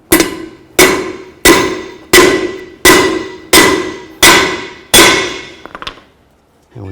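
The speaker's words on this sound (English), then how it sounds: "Just hammer it in." A hammer drives a rear axle seal into a 2000-2006 Chevy Tahoe with seven loud, evenly spaced metallic strikes, each ringing briefly, followed by a few lighter taps and a clatter, close up with no talk.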